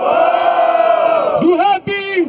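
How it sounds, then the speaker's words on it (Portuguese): A crowd at a rap battle roars and cheers loudly, a sustained wall of shouting that breaks into a shorter burst of yelling voices. "Barulho pra quem gostou das rimas do Refão"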